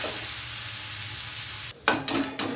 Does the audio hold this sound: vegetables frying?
yes